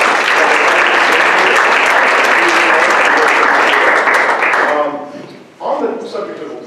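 A seated audience at a candidate question-and-answer forum claps loudly and steadily in thanks for the DeKalb Library, a dense sustained burst that tapers off, followed by a brief second round of scattered clapping.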